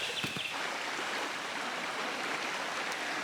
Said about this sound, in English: There's a river crossing up here.